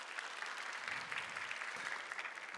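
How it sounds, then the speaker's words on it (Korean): Conference audience applauding a session's two presenters, steady dense clapping throughout, moderately loud and unbroken with no talk over it. "고생해주신 두 분께 박수 한번 다시 부탁드리겠습니다"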